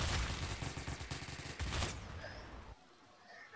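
Gunfire in the shooter game Phantom Forces: a dense, rapid volley of shots for about two seconds, then cutting off abruptly to near silence with faint distant pops.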